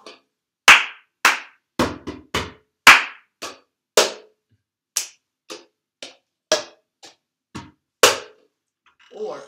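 Cup game rhythm of hand claps and a cup tapped and slapped on a table, a dozen crisp, close percussive hits in a steady, slightly uneven pattern, played alone without talk.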